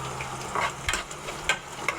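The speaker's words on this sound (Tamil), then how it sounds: "இந்த மாதிரி கிண்டிகிட்டே இருங்க." Onion and tomato fry on full flame in a pan for tomato chutney, a steady crackling sizzle broken by a few soft scraping strokes as the mix is stirred, close and moderately quiet with no talk.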